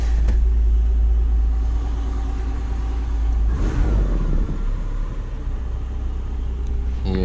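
An idling Nissan Pathfinder engine with its revs sagging: a steady low rumble close by, with a brief rougher surge in the middle before it settles back to a dull drone.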